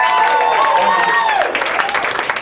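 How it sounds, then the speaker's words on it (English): A live audience at a radio station private music showcase breaks into applause, a dense patter of clapping that builds over a couple of seconds and stays loud. "Give yourselves a round of applause"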